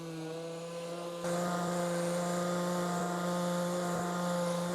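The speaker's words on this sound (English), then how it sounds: "That little battery-powered palm sander that I have, it works pretty good, but it's pretty darn slow" Battery-powered palm sander working walnut wood, a steady loud motor whine with a continuous rough sanding hiss that starts softer and then grows stronger, with no talking over it.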